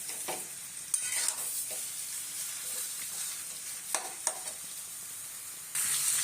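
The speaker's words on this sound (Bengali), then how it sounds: "এবার আমি এগুলোকে ভালো করে নাড়াবো।" Vegetables being stirred in mustard oil in a kadai: repeated scraping, rustling strokes over a steady frying sizzle, close and moderately loud, with no voices.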